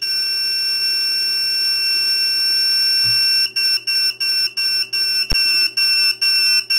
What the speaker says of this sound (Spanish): Se va distanciando el pitido hasta que nos salimos del rango de 10.